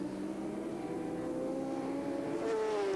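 Racing motorcycle engines drone at the 1997 Bol d'Or 24-hour endurance race, a sustained, distant whine that rises slightly in pitch near the end, with no talk.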